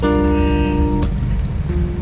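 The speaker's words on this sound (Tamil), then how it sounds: "மழை நல்லா பெய்யட்டும்" Heavy rain pours steadily and close by in a dense, hissing wash, with a few sustained tones ringing over it at first before the downpour carries on alone.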